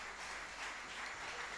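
Applause from a concert audience, a short, faint, steady patter of clapping with no voices.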